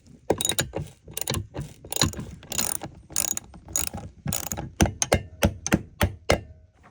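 A wrench ratchets on bolts inside an Airstream car being turned into a tiny home, sounding as quick bursts of sharp clicking with clanks and thunks between them, close and loud.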